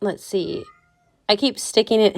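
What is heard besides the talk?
cat meowing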